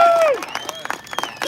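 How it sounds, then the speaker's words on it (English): Crowd at a speedway gathering applauds and cheers, a busy patter of clapping with scattered whoops at moderate distance, following a voice over a PA. "Big round of applause to the Speedway and to all the security busting their butt for us."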